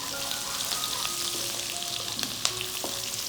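Steady oil sizzle with light crackles and a few sharp pops as finely chopped coriander stems fry in tempering oil, close by, no voices.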